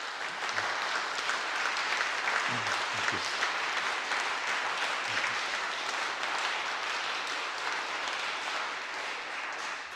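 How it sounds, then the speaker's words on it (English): A live audience in St Mary's Church claps in a continuous, even round of applause that sounds fairly distant and soft, while someone briefly speaks over it. "perhaps I could ask our audience who are here live in St Mary's Church to give them a round of applause"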